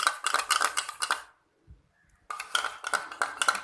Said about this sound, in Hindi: बिल्कुल इसको अच्छे से हम फेंट लेंगे अंडे को।